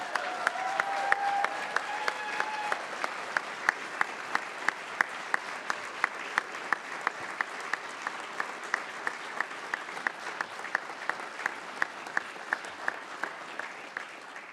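Applause at an Army ROTC commissioning ceremony for newly commissioned second lieutenants: a crowd claps steadily, with individual sharp claps standing out in a regular rhythm above a softer, sustained wash, moderately distant.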